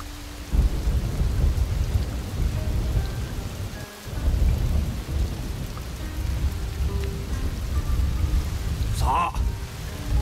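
Steady rain pours in the video game Shadow Tactics: Blades of the Shogun while deep thunder rumbles roll through, a continuous, fairly loud storm bed lasting about ten seconds.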